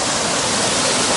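Water rushes through a trail tunnel in a loud, dense, unbroken roar, like a close waterfall, filling the whole moment.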